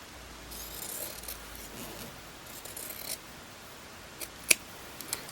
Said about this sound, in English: Now I'm going to cut the shoulder seam open,